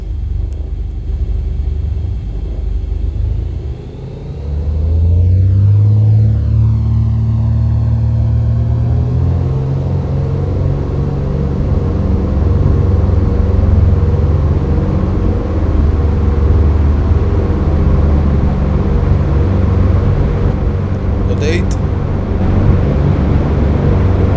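Aircraft engine in the X-Plane 10 flight simulator spooling up for takeoff with flaps set, a loud steady roar rising in pitch and holding as the plane rolls and climbs, with no talk.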